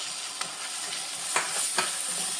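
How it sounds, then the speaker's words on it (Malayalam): Chopped tomatoes go into hot oil in a pan for a tomato buttermilk curry (moru curry) and are stirred. A steady sizzling hiss runs throughout, broken by a few soft scraping knocks from the spoon. No one speaks. "രണ്ട് തക്കാളി കട്ട് ചെയ്ത് വെച്ചേക്കുവാണ് അത് ഇതിലേക്ക് ഇടാം"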